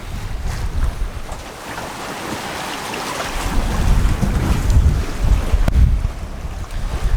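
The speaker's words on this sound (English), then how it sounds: "This has just been such a lovely day sailing." Sailboat running across open ocean toward Grenada with the wind on the aft quarter, steady rushing wind and surging waves washing along the hull, loud and close, with wind buffeting the microphone throughout and no talking.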